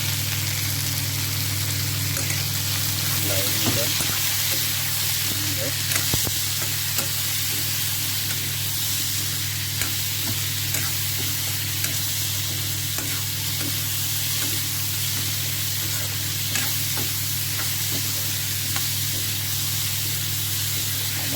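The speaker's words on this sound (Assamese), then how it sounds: "ধুনীয়াকৈ ভজা গৈ আছে।" Oil frying in a pan with turmeric and salt added, a steady loud sizzle running throughout with occasional stirring clicks and a constant low hum beneath.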